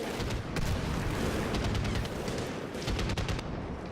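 Dense rapid gunfire from the Medal of Honor Warfighter video game, loud sustained shots with sharp cracks throughout, no speech.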